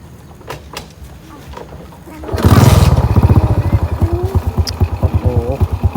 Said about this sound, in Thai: บัดนี้เซ็ตสตาร์ทรถได้บ่